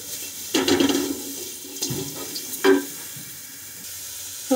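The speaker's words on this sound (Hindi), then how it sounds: "अब मैं इनमें डाल रही हूँ जुकीनी और करूँगी जुकीनी को भी फुल आंच पे कुक" Zucchini and mushrooms stir-fry in a pan over a full flame, giving a steady sizzle with a few louder spurts and stirring noises.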